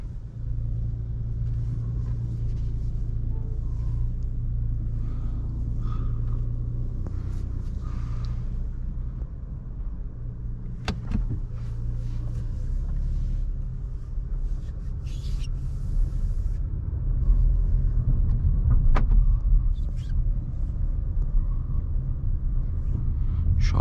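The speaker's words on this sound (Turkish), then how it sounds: "Şöyle arabayı biz de geriye alalım." A Volkswagen Polo engine running as the car is backed up, a steady low rumble that swells slightly toward the end, with a few light knocks and no talking.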